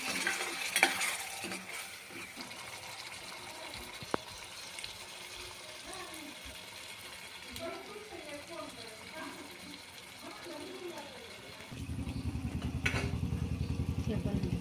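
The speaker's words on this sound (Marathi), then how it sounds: "थोडंसं तूप टाकून मसाला शिजू देऊ" Spiced masala cooks in ghee in a pan for a Khandeshi-style mutton curry, a low sizzle with scattered stirring scrapes and a louder rumbling hiss near the end, with some talking in the background.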